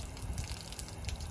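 Hot water runs steadily from a faucet inside a Travato RV camper van, a soft, constant splashing rush that stays even throughout with no voices over it.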